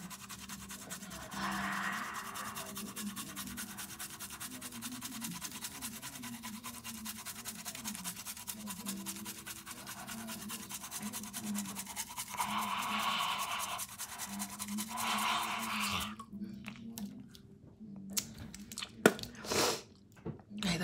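Close, quiet tongue cleaning: wet scraping and brushing strokes repeat steadily, with a few louder rasps and sharp mouth noises toward the end.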